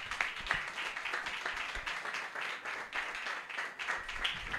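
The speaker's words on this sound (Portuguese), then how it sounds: "Palmas para Jesus," A church congregation claps during a worship service, a dense, steady patter of many hands that fills the room without a break for several seconds.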